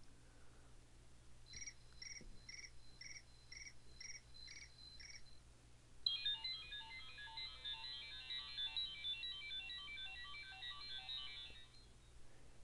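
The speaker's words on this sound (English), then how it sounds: "Whenever you select a ringtone, that ringtone will start playing" An iPhone 4S previews ringtones through its speaker: first a short repeated electronic chirping pattern, then a brighter rapid arpeggiated melody that plays continuously for several seconds, clean and moderately loud with no talking.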